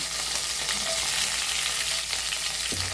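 Mustard seeds crackle and pop in hot oil with curry leaves, a dense continuous sizzle with rapid small bursts throughout.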